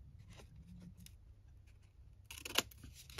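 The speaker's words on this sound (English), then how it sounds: "Just going to cut this off." Scissors snip through a 6x6 patterned paper for a junk journal page, a quiet, close cut near the end after soft rustling and handling noise.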